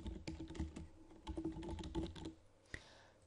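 Quiet, close clicking of keys on a computer keyboard, typed in quick irregular bursts with brief pauses and one sharper tap near the end.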